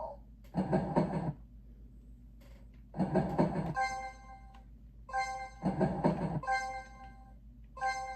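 A train in the video game Shut Up And Jam Gaiden runs in loud rumbling bursts of roughly a second, repeating three times, with tonal horn-like ringing trailing after each burst.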